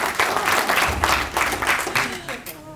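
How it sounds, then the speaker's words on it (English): An audience at a memorial lecture bursts into sustained applause, dense clapping filling the hall at an even level with a few voices mixed in. "you can give the University of Johannesburg a round of applause"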